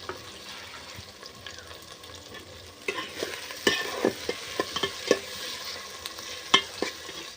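Onions sizzle softly in a pan, then grow louder as chopped tomatoes are added, with scattered scraping and stirring clicks over the frying hiss.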